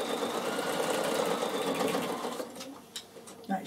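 A Bernina sewing machine runs steadily as it stitches an upcycling project, a close, even mechanical whir that slows and stops near the end, followed by a few soft clicks and handling sounds.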